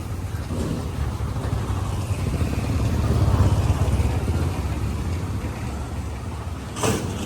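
A tractor engine drones steadily while pulling a new trolley on a farm, a loud continuous rumble that swells slightly in the middle, with a brief knock near the end and no talking.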